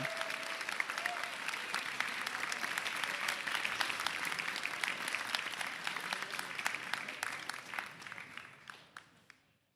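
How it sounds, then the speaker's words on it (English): Applause from an audience at a robotics competition grand finals in San Diego, honoring the first-place team: dense, steady clapping that holds for most of the stretch, then thins out and fades near the end. "Let's give one more big round of applause for our RMTC winners"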